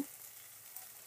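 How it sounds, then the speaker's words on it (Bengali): Mixed vegetables sizzle and fry in a pan while being stirred, a soft steady crackle with a couple of faint scraping touches, quiet and close with no talk. "সমস্ত সবজিটাকে সুন্দর করে নেড়ে চেড়ে কষিয়ে নেব"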